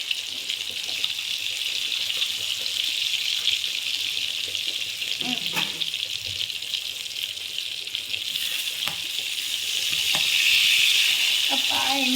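Fish fries in spattering oil in a pan covered with a plate, producing a steady, continuous hissing sizzle with occasional pops that swells louder toward the end.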